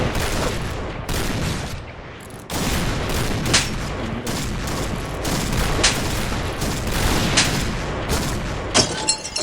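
Rapid bursts of gunfire crackle from the sniper level of a shooter video game, aimed at the player; dense, loud volleys with sharp individual shots and a few short breaks.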